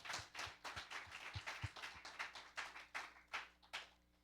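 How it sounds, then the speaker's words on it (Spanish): A small congregation claps for the Lord during a church service, roughly a dozen distinct, fairly quiet, uneven claps in a loose rhythm. "Dale un aplauso al Señor."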